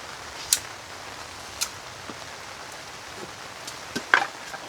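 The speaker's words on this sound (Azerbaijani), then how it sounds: "Yaxşı yağışdır" Rain falls on a family campsite as a soft, steady patter close around, with a few sharper drops or taps now and then.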